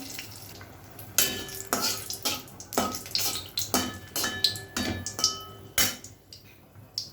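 Dry chillies and mung dal sizzle in a pan while a spoon scrapes and knocks against the metal in an uneven rhythm. The clinks and scrapes are close and fairly loud.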